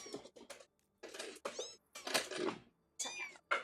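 A house cat meows several times in short, separate calls, close and fairly loud, with brief quiet gaps between them.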